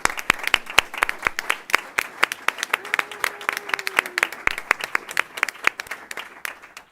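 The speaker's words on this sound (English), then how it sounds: "Let's give everyone one more round of applause." Scattered audience claps after a school board recognition ceremony. The clapping comes from a modest crowd, with a few distinct nearby hands standing out, and it fades toward the end.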